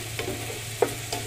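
Ground meat browns in a hot pan, a brief close sizzle broken by a few quick scraping stirs of the spatula.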